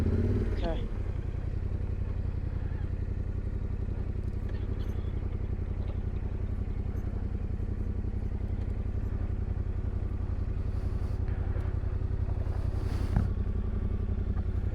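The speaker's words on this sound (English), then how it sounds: "I think let's try your bike first because it's wider." A motorcycle idles and creeps slowly down a narrow trail on Peru's Great Divide, its steady low engine drone close and continuous, with a few clatters and people talking over it.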